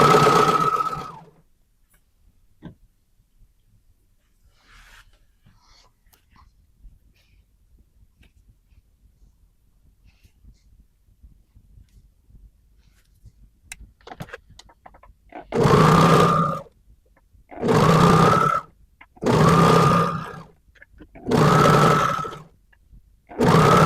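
A sewing machine stitches the leg seam of leggings from the crotch down, five loud motor bursts of about two seconds each after a long quiet stretch of handling the fabric, close by.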